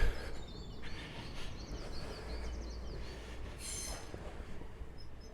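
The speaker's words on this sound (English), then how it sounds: "as you can hear hopefully from all the birds, the morning chorus and the train" A train rumbles past at a steady distance in the early morning near Hastings, its low drone and faint wheel squeal running continuously for several seconds with no talking.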